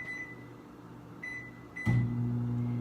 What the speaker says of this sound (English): So we're gonna stick these in the microwave.